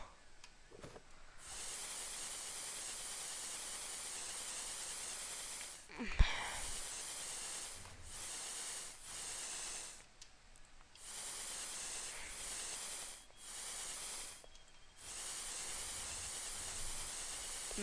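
Blowtorch in use in the game Unturned, a faint steady hiss that comes in long bursts broken by short gaps, with one sharp thump partway through.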